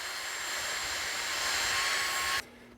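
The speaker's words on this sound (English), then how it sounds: "I'm going to use the cordless vacuum to clean up the parts." Dyson cordless battery vacuum cleaner running, a steady high-pitched whirring whine that holds level and then cuts off abruptly near the end, close and fairly loud, no voices.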